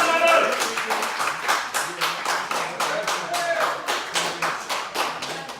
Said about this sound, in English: Give Mr. President a round of applause there for helping us hand out the spot prizes.